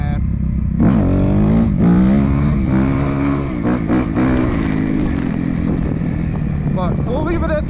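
A Suzuki RMZ250 dirt bike engine runs loud and close throughout, with rising and falling revs and a steady throttle drone, while people talk over it.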